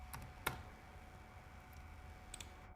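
Quiet, sparse clicks of keys on a computer keyboard: a sharp tap near the start, a few faint ticks, then a soft double click at the end, close and with no talk.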